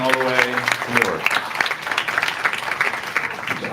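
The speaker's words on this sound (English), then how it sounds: "Can we give a big round of applause to them for crossing state lines" An audience at a tech demo night event claps in a dense, continuous round of applause with a few voices mixed in.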